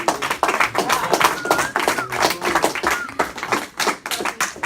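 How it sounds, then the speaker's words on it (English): A classroom of students claps, some in uneven bursts and others in a loose rhythm. The claps are close and sharp, and scattered voices and cheers come through between and over them. "Everybody clap it up for Mr."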